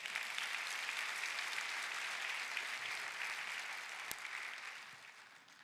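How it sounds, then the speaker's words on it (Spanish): A church congregation applauds during a Palm Sunday sermon, a steady, fairly faint wash of clapping that holds for several seconds and then fades out, with no talk over it. "Dale un aplauso."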